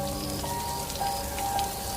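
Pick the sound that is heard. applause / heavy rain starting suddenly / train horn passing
heavy rain starting suddenly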